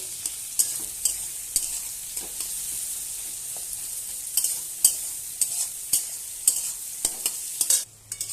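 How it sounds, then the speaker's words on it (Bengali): Onions frying in a pan for a chicken kosha with pointed gourd and potato: a steady bright sizzle runs throughout, broken by frequent sharp scrapes and clicks of a spatula stirring, with no voices. "তো পেঁয়াজটা লাল করে নেব"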